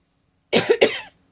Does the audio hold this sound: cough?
yes